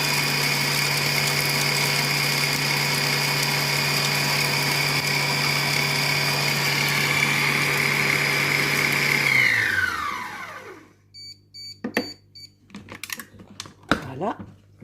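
A Compact Cook Pro food processor chops parsley with a loud, steady motor whine for about ten seconds, then spins down and stops, followed by a few clicks and handling knocks.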